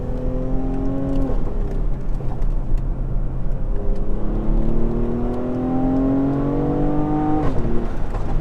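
A 2017 Mercedes GLE43 AMG engine revs up through the gears, each pull rising steadily in pitch before a shift drops it back, with two clear upshifts over a loud, continuous drone heard from inside the cabin.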